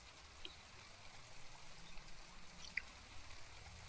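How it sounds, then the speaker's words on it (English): Rain falls in a video game as a faint, steady hiss that runs evenly throughout, with no talking. "Why is it raining?"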